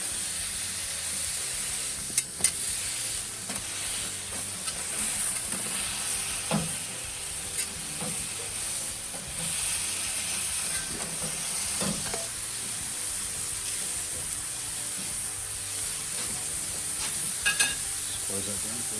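Smash burger patties sizzle on a Kamado Joe grill under greaseproof paper. The frying hiss is loud and steady, with occasional scrapes and pressing knocks close by.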